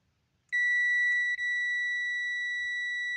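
A multimeter sounds a steady, high-pitched continuity beep that starts suddenly and holds unbroken apart from a brief flicker, clear and alone in an otherwise quiet room.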